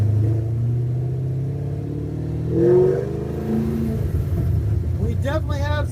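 An old truck, parked since 1999 and driven for the first time in 27 years, has an exhaust leak. Its engine hums at idle, then rises in a deep, close rev and settles into a rough, throaty drone, with a voice partly over it.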